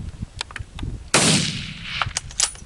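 A single loud, sharp rifle report cracks out during a desert mule deer hunt in southern New Mexico, followed by a rolling echo and faint rustling.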